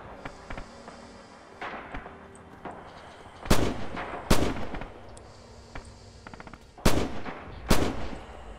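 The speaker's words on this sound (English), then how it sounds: "someone is shooting at me with a machine gun" Gunfire in the Red Orchestra 2 video game on the Bridges of Druzhina map, with sharp loud shots landing in irregular pairs over a busy battlefield background of distant firing and faint footsteps.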